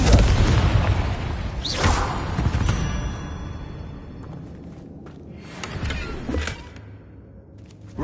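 Explosive Confringo spell blasts in a Hogwarts video game: a loud boom at the start, another burst near two seconds, then rumbling debris and a second blast around six seconds, with no talk.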